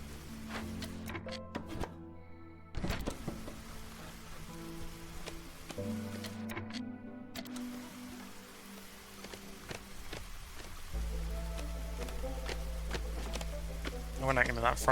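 Light drizzle patters in the video game Against the Storm, a soft, continuous rain texture sitting beneath game music and interface clicks, with a few thuds and tones scattered through.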